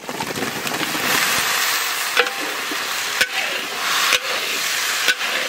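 Potatoes dropped into hot oil with fried ginger and onion set off a loud, close sizzle, with a few clunks of a spoon against the pan.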